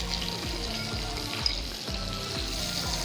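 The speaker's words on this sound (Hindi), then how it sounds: "तो उसके लिए मैंने 2 टेबलस्पून बटर लिया, ये डाल देंगे पहले पैन में।" Two tablespoons of unsalted butter sizzle and melt in a pan, a steady frying hiss running throughout, close and fairly loud, with no talking.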